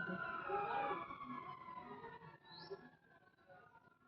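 A voice imitates a police siren with a wavering, sliding wail that gradually fades, faint and close, with a little talking mixed in.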